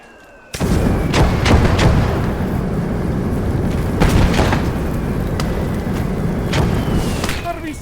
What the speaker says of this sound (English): There's the mortars.